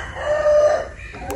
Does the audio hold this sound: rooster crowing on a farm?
yes